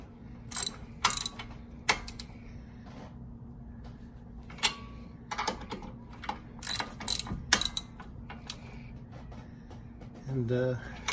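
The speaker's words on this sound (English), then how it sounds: "so we thread on these bolts. And torque these back down." A hand ratchet torquing down bolts during a CV joint replacement on a 2011 VW Golf, giving close, irregular bursts of rapid clicking over a low steady hum, with a brief spoken interruption near the end.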